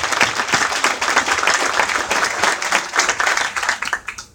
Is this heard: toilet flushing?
no